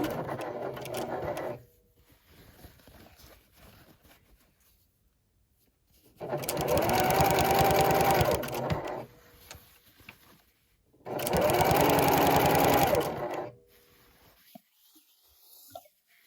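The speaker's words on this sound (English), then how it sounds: "so I won't stitch over them" A sewing machine stitches a denim bag strap cut from upcycled jeans in two long, steady bursts with quiet pauses between them, and a shorter run is heard at the start.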